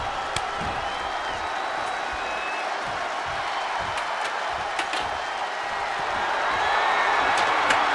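A video game arena crowd in WWE 2K24 during a ladder match keeps up a steady, distant roar of cheering with scattered claps and thuds, swelling slightly toward the end.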